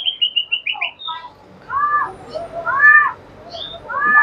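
An oriental magpie-robin sings in bright, varied whistled phrases, close and clear, with short pauses between bursts against a quiet background.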